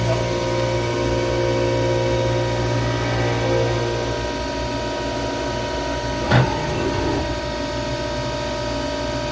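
A CNC mill cuts an aluminum powered fishing reel body at 3,500 RPM and about 65 inches a minute with a 300 thou depth of cut, giving a steady, loud machining drone with one brief sharp clank near the end.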